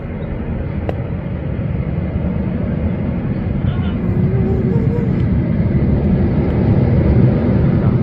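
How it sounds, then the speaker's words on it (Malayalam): Air India Express airliner landing on the runway at Calicut Airport, a loud, steady broadband jet roar rumbling without a break from start to finish. "താഴെ ലാൻഡ് ചെയ്ത് ഇറങ്ങി വരുന്നു."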